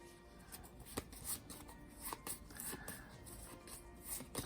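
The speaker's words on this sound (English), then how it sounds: "And so I'm shuffling these up." Arkham Horror game cards being shuffled by hand, a steady run of soft papery riffling and flicks with a few sharper taps, close and fairly quiet.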